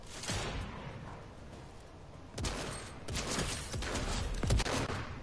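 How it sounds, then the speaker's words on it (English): Scattered gunshots in a video game firefight, several sharp cracks at moderate distance spread across a noisy battle ambience, with a cluster of shots toward the end. "He's shooting at me."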